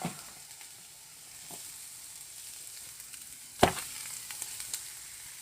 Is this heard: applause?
no